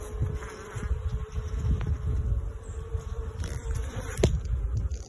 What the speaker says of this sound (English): And look at the bees.